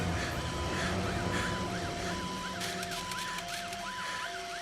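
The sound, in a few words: toy fire truck siren in The Conjuring 2 film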